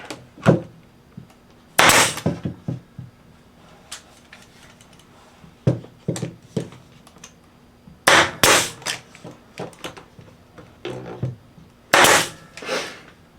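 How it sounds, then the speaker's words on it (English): Sharp staple-gun shots fastening wooden 2x4 shelf parts for a beginner woodworking project, loud snapping clacks in irregular clusters with brief pauses between, close and alone without talk. "just place it right here on top with our spacers in there, and staple on there"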